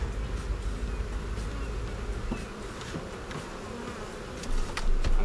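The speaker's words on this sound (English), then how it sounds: "this hive is slap full of bees" Dense, steady buzzing of many honeybees in a full hive fills the whole stretch, close and continuous, with a few louder passes near the end.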